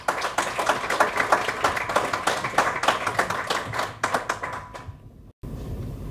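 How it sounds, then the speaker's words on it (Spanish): Audience applause at a public meeting in Orduña, dense rapid clapping from many hands sustained for several seconds, then stopping abruptly as a room hum takes over. "aplaudo a ambos porque han expresado todo muy bien"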